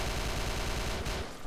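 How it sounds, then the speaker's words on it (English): A rapid burst of automatic gunfire rattles continuously while an enemy is shot in S.T.A.L.K.E.R. Shadow of Chernobyl, dense and loud before cutting off abruptly. "I'm going to have to extremely quickly shoot this man."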